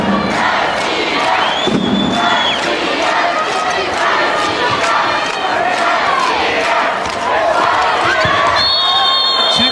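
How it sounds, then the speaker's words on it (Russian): Handball fans in an arena at the women's world championship final between France and Russia, a loud sustained crowd roar with cheering and chanting that fills the whole stretch, with a commentator's voice over it. "Послушайте, наши болельщики здесь."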